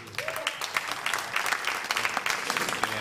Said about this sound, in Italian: nuovamente un applauso.